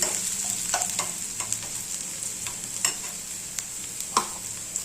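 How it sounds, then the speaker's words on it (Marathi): Garlic, onion and green chili fry in a pan with a steady high sizzle, while occasional sharp spatula clinks and scrapes stand out up close. No one speaks. "आणि इकडे आहे ना लसूण, कांदा, हिरवी मिरची परतायला टाकलेली"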